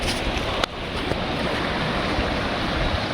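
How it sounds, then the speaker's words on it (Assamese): Steady rushing water of the Nilip river in Karbi Anglong fills the scene, a broad constant wash, with a sharp knock near the start and occasional wind buffeting. "এইখনে হৈছে নীলিপ নদী, কাৰ্বি আংলঙৰ।"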